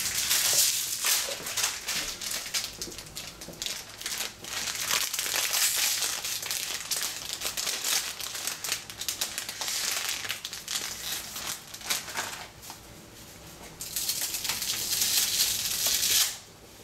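Dry spaghetti noodles being snapped in half and dropped into a pot, heard as close crinkling and crackling in bursts that trail off, with no talking.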